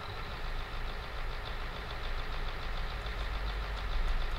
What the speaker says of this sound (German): wenn ich jetzt hier den Motor anmache